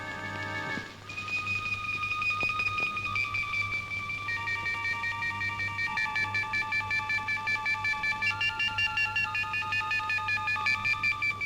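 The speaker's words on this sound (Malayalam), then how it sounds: "ഞാൻ അവർക്ക് ഫോൺ ചെയ്യാം" A telephone number is dialed: a quick run of keypad tones opens, followed by a steady series of electronic beeping tones, fairly faint against a low background hum.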